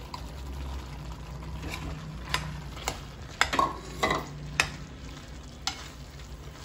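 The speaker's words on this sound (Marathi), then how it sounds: "आता यामध्ये हा भात आपल्याला टाकून द्यायचा आहे।" Cooked rice tipped into a pan of palak and stirred, giving scattered scraping and clattering knocks of a spoon against the pan over a low steady background, with a few louder bumps near the end.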